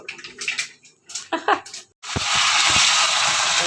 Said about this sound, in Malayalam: കടുകിട്ടത് ആ പൊട്ടിക്കൊണ്ടിരിക്കുന്നു